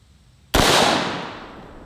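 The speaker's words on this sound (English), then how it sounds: "So let's see what the 16-inch barrel does." A single loud gunshot from an AR rifle with a 16-inch barrel firing Black Hills 77-grain OTM 5.56 ammunition, a sharp crack followed by a long, slowly fading echo, heard alone with no talking.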